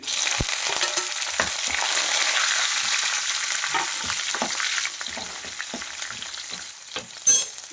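Urad dal, mustard seeds, cumin, chillies and curry leaves crackle and fry in hot oil, a steady close sizzle broken by sharp pops and occasional stirring scrapes, with no voices.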